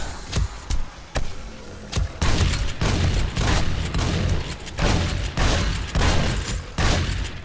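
Gunfire in the survival video game 7 Days to Die, with a series of loud, close, heavy shots in irregular bursts, each a sharp boom with a short tail.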